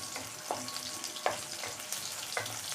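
Onion and garlic sautéing in a pan over a medium flame for green tomato chutney: a soft, steady sizzle broken by several sharp stirring scrapes, close and fairly quiet, with no talking.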